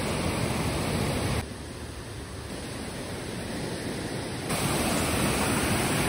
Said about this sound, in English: Oh, there's some waterfalls over here.